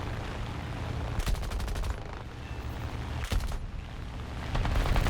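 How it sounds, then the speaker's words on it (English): Two bursts of rapid machine-gun fire from an enemy plane in War Thunder, each lasting under a second, cutting through a steady droning aircraft engine roar. "He's still shooting."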